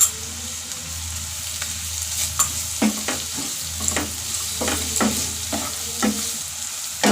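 Ginger garlic paste sizzles steadily in a hot pan while cooking snail curry, with repeated scraping and stirring strokes knocking against the pan at an irregular pace; no voices.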